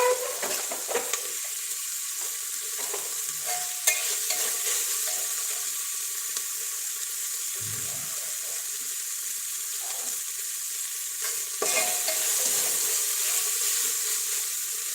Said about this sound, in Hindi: मटर को थोड़ा सा भून लेते हैं।